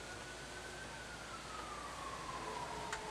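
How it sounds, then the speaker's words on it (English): Faint ambulance siren heard from a rural porch, a thin wailing tone slowly drifting lower as it passes in the distance, buried under steady outdoor background noise. "The cries of an ambulance coming."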